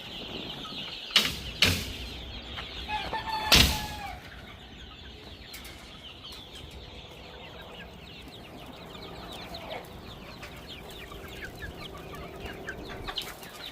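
Many chickens and roosters clucking on a poultry farm of about 500 birds, a steady dense chorus close by, opened by a few sharp knocking clatters as a door is shut, with no talking.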